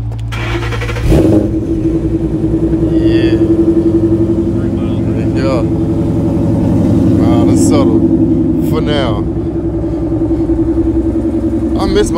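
A Ford Mustang engine with long-tube headers cranks and catches, then idles with a deep rumble and revs up and down, loud and close, with people talking over it.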